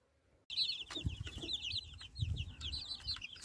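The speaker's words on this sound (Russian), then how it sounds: "Так, вот наши цыплята" Chickens and young chicks clucking and chirping inside a cage on a hen-keeping farm, with steady overlapping peeps and clucks close by after a short quiet start, plus a few louder thumps.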